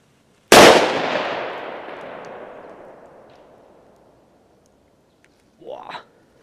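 A single Demon firecracker of 0.45 grams detonates with a sharp, loud bang whose echo rolls off and fades over several seconds outdoors, followed by a brief burst of voice.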